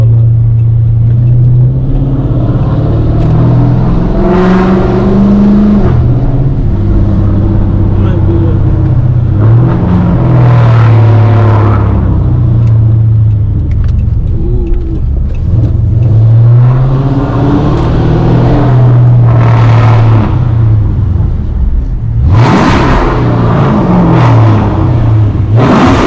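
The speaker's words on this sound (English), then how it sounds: "Got the V6 motherfucker with the exhaust on that bit." A V6 Chrysler 300/RT-type car with a catless exhaust revs repeatedly, deep engine drone rising and falling in several loud pulls, close to the microphone, with people talking over it.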